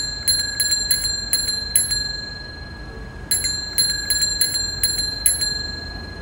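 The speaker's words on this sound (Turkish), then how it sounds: "Örneğin dünyada bisiklet sesini bu şekilde duyarken" A bicycle bell rings in two bursts of rapid bright dings, about five strikes each, separated by a short pause, close and clear over a faint background hiss.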